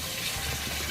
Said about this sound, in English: Pour the lemon juice in.